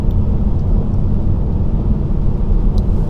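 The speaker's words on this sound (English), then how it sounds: "even though we just have a little bit of rain and wind" Loud, steady rumble of a Tesla driving on city streets in light rain and wind, low road and wind roar filling the cabin with no voices.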